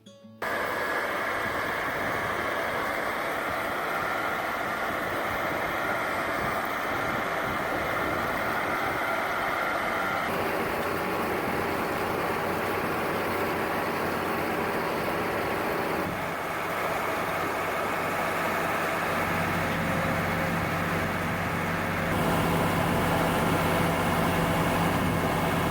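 A sorghum harvester runs in the field with a conveyor feeding its juice press, giving a steady, loud mechanical engine drone that holds for the whole stretch with slight shifts in tone.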